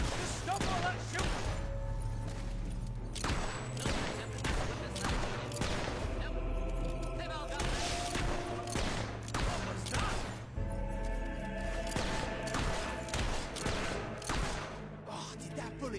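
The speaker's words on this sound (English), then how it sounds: "Stop all that shooting!" Gunfire from the video game Fable 3, a dense volley of shots and crashes running throughout under overlapping voices and music, loud and continuous.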